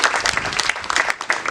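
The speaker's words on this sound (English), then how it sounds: "Please let us give a round of applause to all the graduates" Applause from the audience for graduates at North Coast Medical Training College's ninth graduation ceremony: a dense, steady patter of many hands clapping together, moderately loud and sustained throughout.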